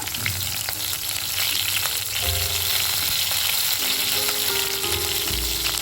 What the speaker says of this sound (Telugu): ఇప్పుడు ఇందులోకి ఒక 10 పచ్చిమిర్చిని ఇలా చుంచి వేసుకోవాలి. ఇంకా 10-12 ఎల్లిపాయలు వేసుకోవాలి.